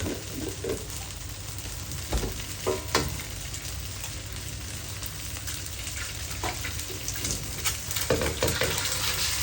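Egg and vegetables fry in oil in a pan for shrimp pad thai, a constant close sizzle with scraping stirs and occasional sharper pops, with no talking.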